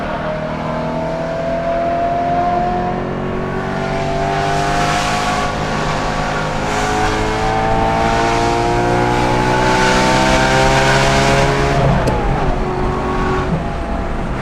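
A BMW M3 S65 V8 with a six-speed manual and Valvetronic Designs valved sport exhaust revs hard and continuously, its exhaust note climbing and falling through repeated loud, rising sweeps.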